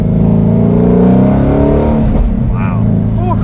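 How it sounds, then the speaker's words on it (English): A Shelby GT350 Mustang V8 revs hard, its exhaust roaring up through rising engine tones up close and loud, then easing off as a voice speaks over the tail end. "I've always been a fan of the Mustang V8 exhaust"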